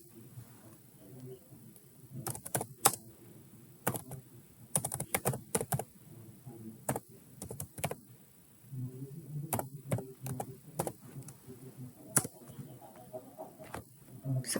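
A computer keyboard clatters in irregular bursts of close keystrokes during a password-cracking session, with pauses between flurries and quiet background noise.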